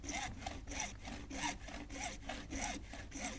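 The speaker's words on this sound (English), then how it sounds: "Use a hacksaw to cut along the upper and lower marks." A hacksaw cuts through a rainwater downpipe in steady, even back-and-forth strokes, about seven rasping passes, close and alone with no talk.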